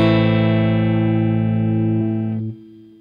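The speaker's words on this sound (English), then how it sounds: "it'll start sounding a little bit more like an electric guitar" A sustained electric guitar chord played through a distorted amp simulation in Logic Pro rings out loud and rich with harmonics, then is cut off about two and a half seconds in, leaving a fading tail.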